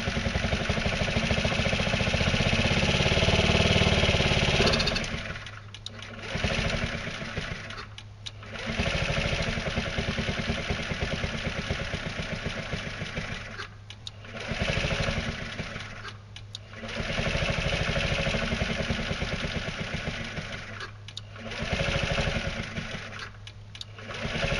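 A hydrogen-converted scooter engine runs with a buzzing, high-pitched whine that keeps cutting out and catching again, sputtering in uneven bursts over about twenty-five seconds.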